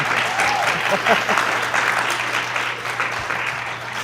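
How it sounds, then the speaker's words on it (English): Audience clapping at a Boylan vs. Auburn game event, steady and fairly close throughout, with a low constant hum beneath it. "I don't want to interrupt the applause"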